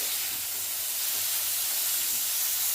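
Chopped tomatoes fry in a pan as part of a home-cooked Maharashtrian cluster-bean dish, giving a close, steady, even hiss without pauses.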